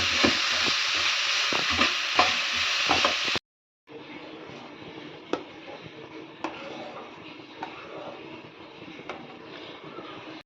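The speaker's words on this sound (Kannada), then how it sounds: "ಉಪ್ಪಿಟ್ಟು ಚೆನ್ನಾಗಿ ಫ್ರೈ ಆಗ್ಬೇಕು ಅದನ್ನು ಪಟಾಪಟ್ ಮಾಡಿ" Upma stir-frying in a pan on the stove: a steady sizzle with scraping spoon strokes, louder at first, then a softer continuous frying hiss with occasional clicks.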